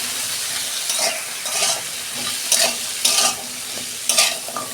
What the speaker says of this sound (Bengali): 2 মিনিট আমি ডাঁটাটা একটু ভেজে নেব